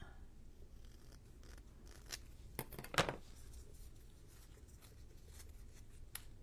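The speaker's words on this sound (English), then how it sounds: "There's one spot there that's bugging me, so I'm just going to trim it." Scissors trim paper for a bees-and-blossoms junk journal page, giving a few quiet, close snips clustered together, with one sharper cut standing out amid soft handling noise.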